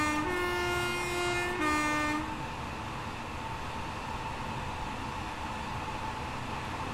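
An LNER Azuma train in Train Sim World 4 on the East Coast Main Line sounds a two-note horn twice in the opening seconds, then runs on with a steady rolling rumble and faint track clatter, with no talking.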